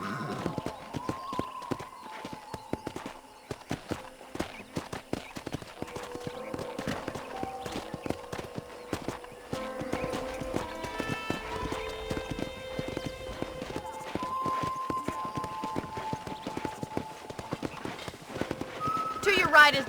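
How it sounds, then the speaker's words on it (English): In Red Dead Redemption, horse hooves clip-clop in a steady walking rhythm around a ranch, with game-like music tones and occasional spoken voices over them. "let's see if you can still ride a horse"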